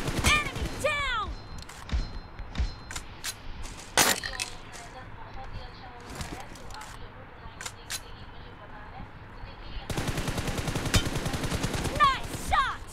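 Gunfire in a BGMI team deathmatch on mobile: sharp shots and bursts ring out close by, then a sustained rapid stretch near the end, with game noises in between.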